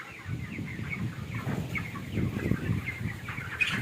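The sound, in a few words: chickens on a poultry farm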